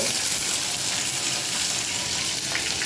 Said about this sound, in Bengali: পেঁয়াজ কুচিটা ভাজা হতে লাগবে